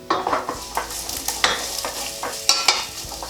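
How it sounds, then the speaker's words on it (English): Vegetables and mushrooms sautéing in a saucepan, a steady sizzle broken by repeated stirring scrapes and clinks as the pieces are moved around, close and clear with no voices. "it's just a case of sauteing those for no more than 5 minutes, just to soften them"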